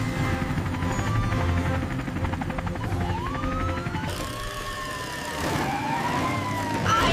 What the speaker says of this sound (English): Sirens on! Let's go!